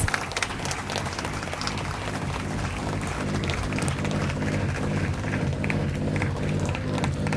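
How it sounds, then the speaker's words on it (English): Audience applause at an HR session event, sustained dense clapping from a crowd at even loudness for the whole stretch, no voices over it. "Dear audience, let's give a huge round of applause."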